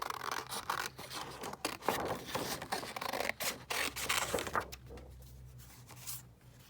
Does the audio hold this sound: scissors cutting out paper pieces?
yes